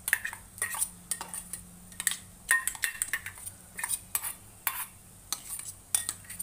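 A spoon stirring ground masala with turmeric and chilli powder in a pan for stuffed brinjal, rapid irregular metallic scrapes and clinks, close and fairly quiet, with faint sizzling beneath.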